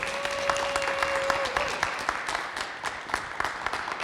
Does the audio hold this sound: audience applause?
yes